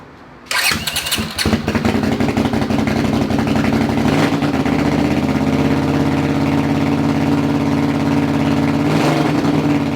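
A Honda CX500 motorcycle engine, fitted with a homemade muffler with no silencer insert, starts up after a brief crank and settles into a loud, steady, throbbing idle at close range.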